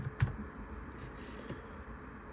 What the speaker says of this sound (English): Can I type it?